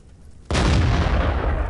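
Tank cannon firing in World of Tanks, a single sudden loud boom that stays as a sustained roaring blast, close and with no talk.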